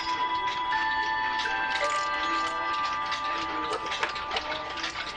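A mechanical clock ticks in a steady rhythm, close and clear, with faint metallic ringing tones under the ticks and no speech.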